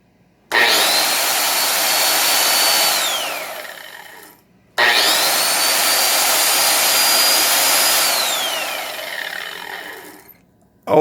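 A Black & Decker 9 inch WildCat heavy-duty industrial grinder spins up with a loud, high whine, runs steadily, then winds down; it happens twice, close and alone.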